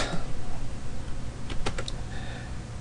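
Keys clatter on a computer keyboard as a command is typed at a command prompt, a quick run of close, crisp keystrokes over a low background hum, with no talking.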